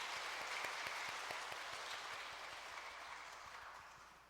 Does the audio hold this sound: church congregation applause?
yes